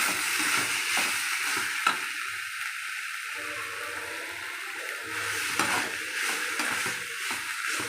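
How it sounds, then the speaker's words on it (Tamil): Eggplant sautés in a pan for an ennai kathirikkai poriyal, with a steady close sizzle and frying hiss and occasional stirring scrapes. "நல்லா வதங்கி போட்டு கத்திரிக்காய்"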